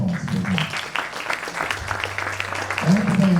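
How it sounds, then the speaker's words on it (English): Audience applause at a spring college jazz band concert, hands clapping for a jazz singer, a moderate burst of clapping with a voice talking over it. "let's have another round of applause for him"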